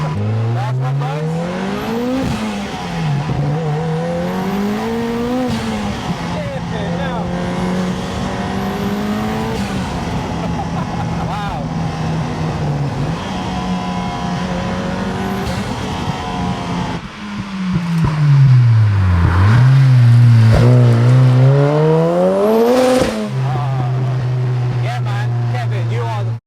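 A 500bhp Lotus Elise pulls hard on boost, engine note rising and falling through repeated gear changes in a loud, continuous surge close by, climbing to a strained peak near the end.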